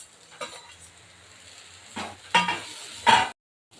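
Potatoes sautéing in a pan for a potato omelette, soft background sizzle broken by a few sharp stirring scrapes and clinks of a utensil against the pan, close and fairly quiet.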